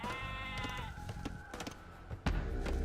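A sheep bleats with a wavering, drawn-out cry in a strategy video game, amid steady background game sounds and scattered clicks, fairly close and clear.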